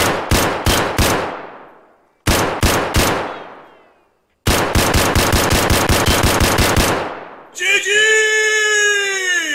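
SKS rifle fire in the shooter game Escape from Tarkov: loud, sharp shots in quick bursts of four, four and a long string of about fourteen, each with a decaying tail, followed by a ringing metallic reload clatter.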